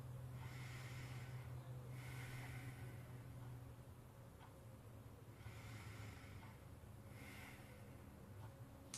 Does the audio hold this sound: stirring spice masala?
no